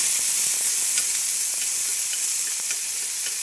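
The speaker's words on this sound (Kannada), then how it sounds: "ಈಗ ಬಟಾಣಿ ಹಾಕಿ ಬಟಾಣಿನೂ ಹುರ್ಕೋಬೇಕು ಸ್ವಲ್ಪ ಹೊತ್ತು" Soaked green peas frying in a pan along with cashews and almonds for spicy masala oats make a loud, continuous close sizzle with faint stirring scrapes, and nobody speaks.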